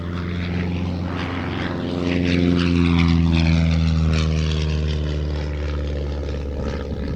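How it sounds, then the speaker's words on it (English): Vintage propeller aircraft side-slipping on landing approach at the Shuttleworth air show, its engine droning with a strong steady tone that swells to a peak as it passes close, then slowly recedes. "Side-slipped approach here, slipping off the speed."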